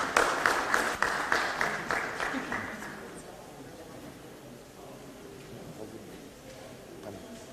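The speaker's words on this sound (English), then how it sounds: "let's give them a round of applause" A short round of applause at a World Press Freedom Day event, distinct claps loud at first and fading after about three seconds into quiet room noise.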